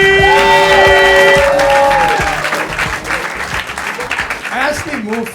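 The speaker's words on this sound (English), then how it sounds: "Please give a round of applause for the very funny Vikram" Audience applause and cheering for a stand-up comedian in a Chicago comedy club, loud and dense at first over a musical intro sting, then easing into steadier clapping with some voices in the crowd.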